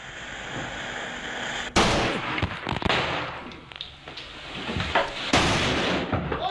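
Firecrackers go off nearby with two sharp, loud bursts, each followed by scattered crackling pops and fading debris noise, set off on a Somdej Buddhist amulet.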